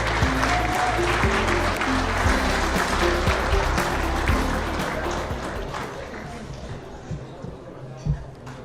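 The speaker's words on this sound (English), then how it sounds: "One more round of applause for Dr." Applause rises at a Long Beach City College Hall of Champions ceremony, honoring Dr. Richard Graves: a dense, steady clatter of many hands throughout, mixed with crowd murmur and talk, thinning slightly toward the end with a few scattered louder claps.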